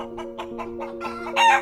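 A chicken clucks close by in a quick, even series of short calls, rising to a louder, higher squawk at the end.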